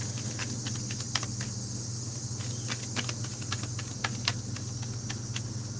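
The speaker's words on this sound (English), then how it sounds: "You can hear the cicadas in the background here." Outdoor insect chorus of cicadas on a warm, sunny August day, a steady high buzzing drone in the background, punctuated by faint rapid ticking pulses, with a low constant hum underneath and no talking.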